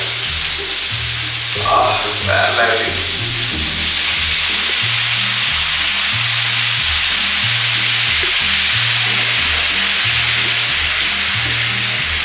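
Wine poured into a hot pan with beef steak sets off loud, steady sizzling that carries on unbroken, with a brief clatter early on and no voices.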